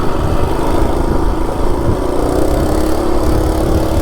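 A stock Coleman RSV 196cc minibike engine runs hard at a steady high pitch throughout, a loud, constant mechanical drone with no talk over it.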